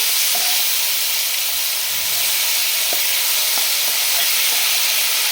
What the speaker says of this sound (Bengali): এখন পেঁয়াজটা প্রায় ভাজা হয়ে গেছে